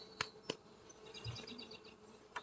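Honey bees buzz faintly in an open hive during a weekly farm inspection, with a soft, steady hum broken by a few sharp, close clicks.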